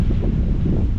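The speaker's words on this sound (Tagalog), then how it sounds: "ang lakas ang hangin" Strong wind gusts across an open farm field being prepared for corn planting, a steady, loud, low rumbling roar buffeting the microphone for about a second, with no voices.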